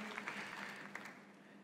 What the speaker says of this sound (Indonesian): Kita tepuk tangan yang paling meriah bagi Yesus Kristus Tuhan kita.